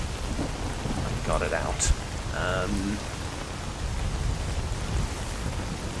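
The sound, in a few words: rain and thunder in the video game Escape From Pripyat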